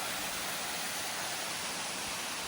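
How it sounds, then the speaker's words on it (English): A waterfall heard from its base, giving a steady, broadband rushing roar of falling water that fills the whole stretch evenly without any break. "I'm down at the bottom of the waterfall."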